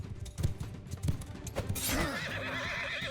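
A horse in a Bannerlord game battle whinnies in a long wavering neigh over the clatter of hooves and scattered battle thuds, with the neigh clearest in the second half.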